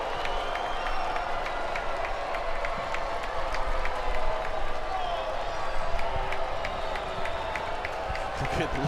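Spectators at a North Carolina vs. Duke men's college soccer match cheer and clap rhythmically in the stadium, a steady crowd roar with swelling bursts, while a commentator speaks over it.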